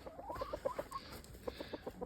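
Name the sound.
chickens clucking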